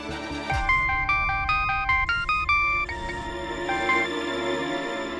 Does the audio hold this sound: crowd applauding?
no